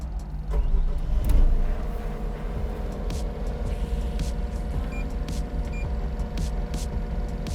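A skid steer loader's diesel engine cranks over and settles into a steady, close running idle, with a low continuous rumble and occasional clicks on top, and nobody talking.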